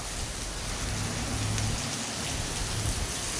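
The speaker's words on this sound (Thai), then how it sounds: "ฝน มาแล้ว ฝน มาแล้ว" Steady heavy rain pouring down, a dense continuous hiss of drops on surfaces, loud and close with no voices.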